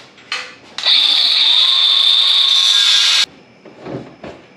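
A power tool cuts into a Camaro nose panel on a street stock race car, giving one loud, steady high-pitched whine of about two and a half seconds, close by, with brief handling knocks before and after.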